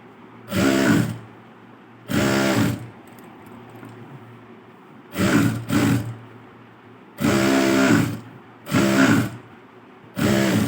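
Sewing machine stitching embroidery on a blouse, running in loud close bursts of about a second each, six runs with short pauses between them.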